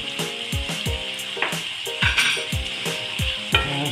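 Rice and meat with sweet paprika stirred in a sizzling frying pan, a spoon scraping in steady repeated strokes over continuous close frying hiss, with occasional utensil knocks against the pan.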